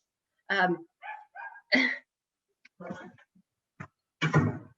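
A dog barking indoors, a string of short, sharp barks with uneven gaps between them, fairly close and clear against a quiet background.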